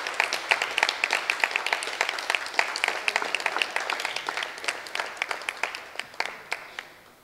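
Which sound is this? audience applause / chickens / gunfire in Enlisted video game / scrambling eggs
audience applause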